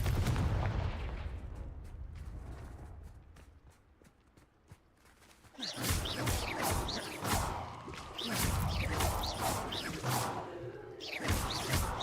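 A Confringo fire spell goes off in Hogwarts Legacy, sharp crackling blasts bursting in a rapid cluster after a quieter stretch, loud and close with scattered impacts.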